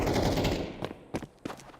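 Gunfire in the Free Fire video game: a rapid automatic burst rattles at first, then several separate sharp shots follow, moderately loud with no talk.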